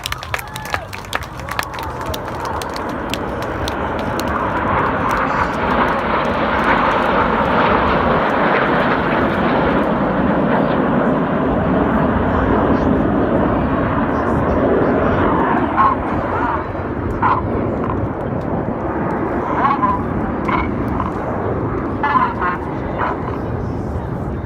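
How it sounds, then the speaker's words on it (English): Red Arrows jet aircraft flying a display formation at an air show, a loud steady roar of jet engines filling the whole stretch with faint crowd noise beneath and a voice talking over it. "Red 1 about to bank the aircraft to the left."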